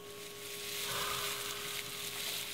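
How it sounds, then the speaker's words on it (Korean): Makchang, grilled beef intestines, sizzling in hot oil at home: a steady, close crackle and hiss that stays fairly quiet and even throughout, with a faint electrical hum beneath and no talking. "그럼 기름이 자글자글거리는 게 보여."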